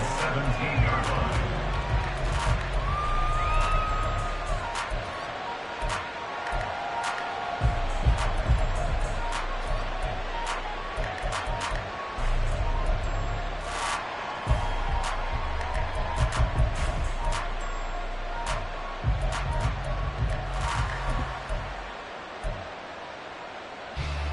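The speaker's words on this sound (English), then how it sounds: "The crowd may be losing just a little bit of the edge after back-to-back punts" Stadium crowd at an NFL game featuring the Texans: a steady, broad roar of many voices with swells and dips across the stretch, sitting under ongoing talk.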